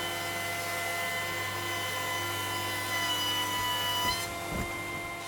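A wood planer, or jointer, running a hefty lump of timber through, a loud steady motor whine and drone that shifts slightly near the end.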